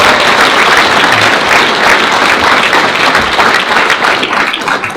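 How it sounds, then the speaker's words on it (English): An audience at a European Parliament event in Stavanger, Norway claps loudly for a speaker, a close, dense, steady applause that holds throughout and tapers slightly at the end. "So a big applause to Jakob Nordangård."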